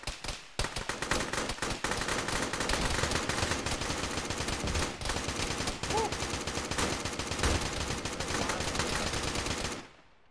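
Dense video-game gunfire with rapid machine-gun bursts and heavy booms, a tank shell explosion among them, roaring loudly and continuously before cutting off.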